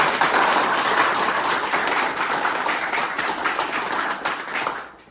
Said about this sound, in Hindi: 28 जून की क्लास के सारे बात जोरदार तालियों से शुरुआत करेंगे।